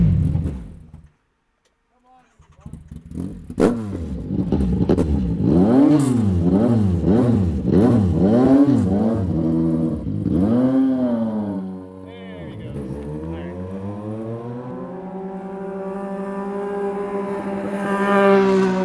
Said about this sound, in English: I just don't want to start an ice cold engine.